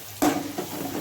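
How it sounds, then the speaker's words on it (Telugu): Onion frying in a pan with ginger garlic paste stirred in: a sudden burst of sizzle and stirring that settles into a steady, close hiss. "ఈ విధంగా ఆనియన్ కొంచెం ఫ్రై అవుతూ ఉండగా 2 టేబుల్ స్పూన్ జింజర్ గార్లిక్ పేస్ట్ని వేసేసి"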